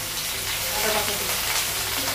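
Spices and ginger paste frying in a pan with turmeric, cumin powder and salt, a close, continuous hiss and crackle of sizzling oil with faint stirring scrapes.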